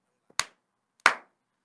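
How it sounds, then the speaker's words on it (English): Two sharp hand claps, a lone single clap followed by a second about two-thirds of a second later, close and fairly loud in an otherwise quiet moment with no talking. "Two fucking claps."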